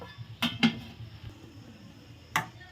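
Utensil clinking against a pan while egg rice with sugar is mixed, three distinct scraping knocks, sharp and close against a quiet low kitchen background.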